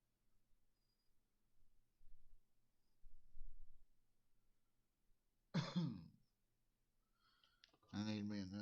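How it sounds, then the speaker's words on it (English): A single harsh throat clear or cough breaks a quiet stretch, followed by a few soft clicks and then the start of a voice. "I keep coughing."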